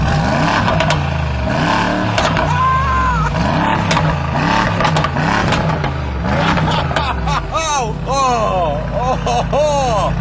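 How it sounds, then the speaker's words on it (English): Exhaust of an 800 horsepower car revving repeatedly, loud rising and falling engine swells that climb into sharper high revs near the end, with talk mixed in underneath. "Just cut to the exhaust sound because it's fucking bananas"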